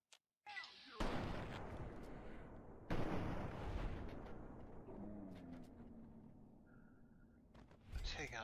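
Hunting rifle gunfire in Fallout 3: two loud broadband blasts about two seconds apart, each trailing into a long rumbling decay, with a sharper crack near the end and faint game ambience between shots.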